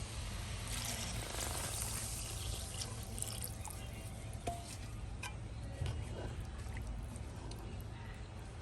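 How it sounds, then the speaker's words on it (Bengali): Water is poured into a pot of cooking beef haleem, a steady, continuous trickle and splash with faint clinks over a low kitchen hum. "এখন আমি একটু পানি দিয়ে দিব"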